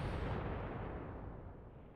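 Artillery explosion in Company of Heroes 3 at the Gustav Line, a loud deep blast rumbling and slowly fading away with its high crackle dying out quickly, no voices.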